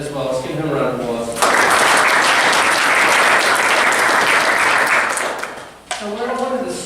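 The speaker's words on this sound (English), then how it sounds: "Let's give him a round of applause." A law review symposium audience claps for a speaker in one loud sustained round of applause lasting several seconds, framed by talk before and after.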